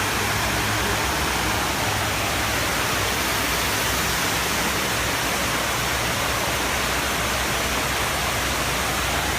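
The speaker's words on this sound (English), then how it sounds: "Yeah, you guys can hear the sound. It's very, very dramatic. It's almost like a waterfall." Rushing water at the Tribute in Light memorial in New York City, a loud, steady broadband roar like a waterfall that continues unbroken throughout, with no voices.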